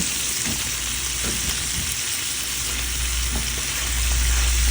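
Sizzling frying in a pan as Malabar spinach goes into sautéed shrimp, a steady broadband hiss with a few soft stirring knocks, close and continuous with no talking.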